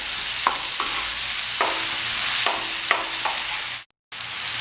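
Onion and tomato fry steadily in a pan for egg bhurji, a dense close sizzle with occasional light utensil clicks. Near the end it cuts out briefly to silence before resuming.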